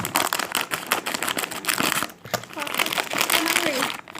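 Crinkly plastic snack packaging is handled and cut open with scissors, a close, loud run of rustling and crackling with people talking over it.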